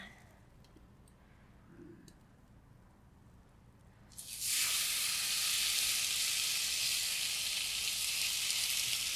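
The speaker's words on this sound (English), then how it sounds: "And we're gonna add our bacon." Bacon goes into a hot pan that has been turned down slightly, and a loud, steady sizzle of frying fat starts abruptly partway through, then holds evenly to the end with no talking over it.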